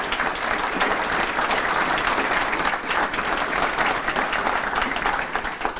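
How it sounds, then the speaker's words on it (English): Enthusiastic applause from a seated audience at a speaking session, thanking an event sponsor. The clapping is loud and full, holding steady for several seconds. "Can you please give our sponsor a round of applause for their support?"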